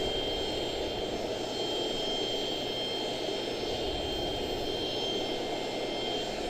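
An Etihad airliner's jet engines at Charlotte-Douglas airport make a steady, fairly distant drone with a thin high whine, holding even and unbroken with no talk over it.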